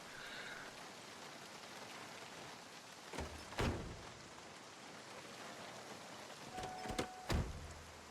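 Steady rain hisses in Project Zomboid, a constant wash of falling water with a few brief thumps and a faint tone partway through.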